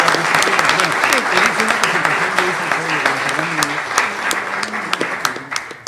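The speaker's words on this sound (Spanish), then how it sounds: "Un aplauso, no está presente, para don Fernando Muñoz Altea." Conference audience at a molecular genealogy talk applauds steadily for an absent honoree, a dense wash of many hands clapping that holds for several seconds and tapers slightly toward the end, with faint voices beneath.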